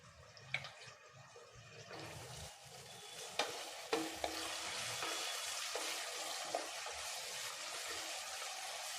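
Finely chopped onions frying in hot oil with spices for an egg kurma, a steady close sizzle with occasional stirring scrapes and clinks, continuous and moderately quiet.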